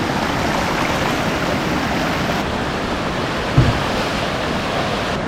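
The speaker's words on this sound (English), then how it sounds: "the volume of water coming out of this thing is crazy" A large spring gushes water out of a mountain beside an off-grid forest cabin, making a steady, loud, close rushing roar with no break.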